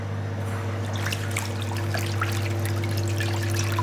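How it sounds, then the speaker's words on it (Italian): Water trickling and pouring steadily as yeast is dissolved in it for Neapolitan biga pizza dough, a continuous close liquid dribble over a low constant hum, with no talking. "Andiamo a sciogliere il lievito."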